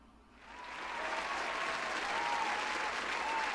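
A studio audience breaks into applause to welcome actor Eric Lauritzen as a guest on a talk show, the clapping swelling after a brief start and holding steady and dense throughout.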